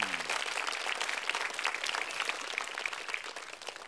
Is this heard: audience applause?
yes